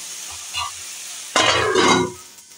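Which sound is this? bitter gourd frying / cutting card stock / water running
bitter gourd frying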